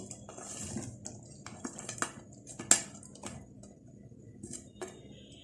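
Fried chicken pieces go into a pan for restaurant-style butter garlic chicken and are stirred, giving close scattered clinks and scrapes of a utensil against the pan with soft wet shuffling and no talk.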